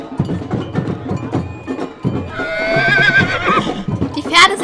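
A horse whinnies loudly and close by, a rising, quavering neigh that follows people talking.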